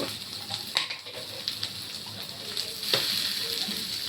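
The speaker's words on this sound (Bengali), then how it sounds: "ঘি দিয়ে দিচ্ছি 1 চামচ।" Ghee sizzles in a pan with garam masala, a continuous close frying hiss with small crackles and a few stirring scrapes, louder toward the end.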